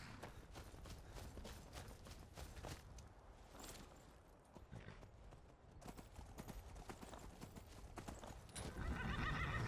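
A horse in Skyrim clops along with repeated hoofbeats and lets out a whinny, the steps irregular and fairly close, with mechanical clinks and a swell of noise near the end.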